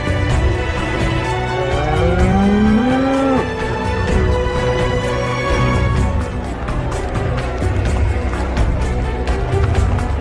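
A cow moos loudly and close by, a long rising bellow that breaks off, followed by more lowing and mooing over a busy rumbling background.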